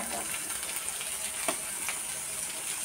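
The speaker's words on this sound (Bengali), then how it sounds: "হালকা বেগুনটা একটু ভেজে নেব।" Brinjal pieces frying lightly in a pan, a soft continuous sizzle with a few faint stirring clicks and a sharper knock at the end, close but quiet.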